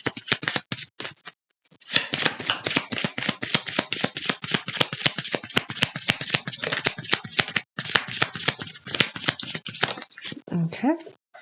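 Oracle cards being shuffled during a tarot reading, a long run of close, rapid riffling flutters broken by brief pauses, ending with a short voice.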